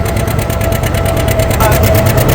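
A John Deere R tractor engine pulls a disc harrow across a field in third gear, a loud, steady, thumping rumble with a regular low pulse throughout.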